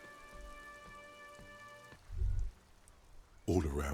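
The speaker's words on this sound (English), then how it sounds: "All around you, rain falls on the great city of Revachol" Rain patters steadily in the city of Revachol in Disco Elysium, a soft continuous wash of drops with tonal game music layered over it and low thuds partway through.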